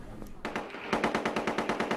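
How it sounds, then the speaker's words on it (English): A burst of rapid automatic machine gun fire near Basra during the Iraq War, with evenly spaced rounds rattling loudly after a short lead-in, heard alone without talk. "There was more gunfire around Basra today as British troops moved inexorably towards the city centre."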